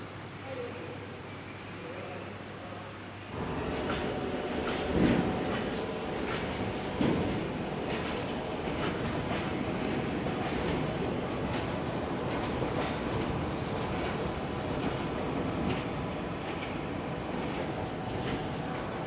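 Trains at Old Delhi railway station, a steady rumble of rolling stock with faint clatter and station ambience that swells after a quieter start and continues without a break.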